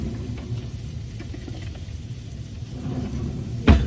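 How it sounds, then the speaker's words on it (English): Scrambled eggs sizzle steadily in a frying pan while being stirred, a continuous close crackle with a sharper scrape or knock near the end. "it says to keep stirring it until it starts to form solids"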